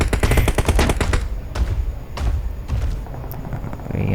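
Gunfire in the PUBG Mobile video game: a rapid automatic burst of loud shots at the start, then a few separate heavy shots and thuds, close and dominant with no talk.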